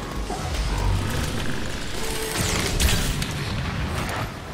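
An explosion in the video game Crysis 3: a dense, loud rumbling blast with mechanical rattling and crackling debris, sustained throughout without speech.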